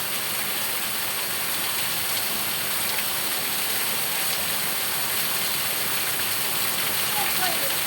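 Torrential rain pours down in a steady, dense hiss that fills the whole stretch without a break, loud and close.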